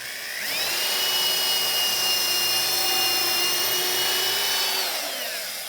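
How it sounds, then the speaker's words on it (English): A power drill bores through a wooden purlin set in a jig for a bench swing arbor. Its steady motor whine ramps up, holds for about five seconds, then winds down, close and loud. "We're gonna drill this purlin over the top."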